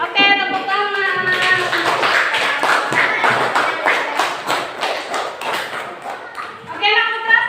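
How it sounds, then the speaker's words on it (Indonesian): Children clap their hands in a classroom, a dense run of claps lasting several seconds, with a voice speaking at the start and end. "Oke, tepuk tangan."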